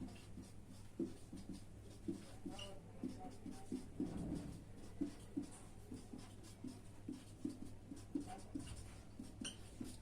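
Chalk taps and scratches on a board in a steady, close rhythm of short strokes, faint under a low background hum, with occasional speech mixed in.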